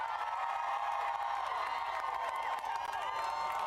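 A large crowd cheers and shouts for a big wave surfer at the Eddie Aikau Big Wave Invitational at Waimea Bay, a sustained roar of voices and whoops heard from a distance with no break.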